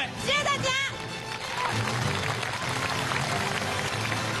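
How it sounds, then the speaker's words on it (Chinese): A studio audience at a military talent-show final breaks into applause, a dense, sustained wash of clapping that follows a short burst of voices at the start and fills the rest of the moment. "掌声送给两位！"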